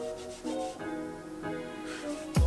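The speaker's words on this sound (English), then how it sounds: "Take a 1/4 of a pump of the Artis brush cleaning, and then I'm just going to rub the brush on here." Makeup brush rubbed over a surface loaded with a quarter pump of Artis brush cleaner, giving soft repeated scrubbing strokes at close range with no talking.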